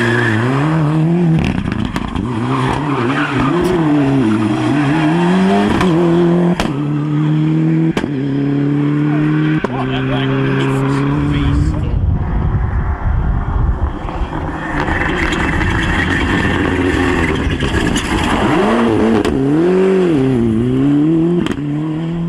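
A Ford Puma four-wheel-drive rally car drives hard, its engine loud and close, revving up through repeated gear changes, dropping off, then roaring again with rising and falling pitch and some tire noise.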